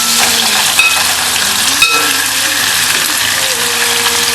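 Sardines fry Jamaican style in a hot pan of oil, a loud, steady sizzle and crackle filling the whole stretch with a couple of brief pops and no voices.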